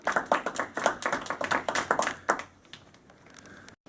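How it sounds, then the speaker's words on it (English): Small-group applause in a team meeting, a few people clapping in a quick, uneven patter that thins out and fades after a couple of seconds, ending in near silence. "everybody applaud that"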